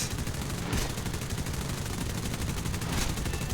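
Aircraft machine guns fire in the War Thunder video game as a dense, continuous rattling burst, loud and unbroken, with engine roar underneath.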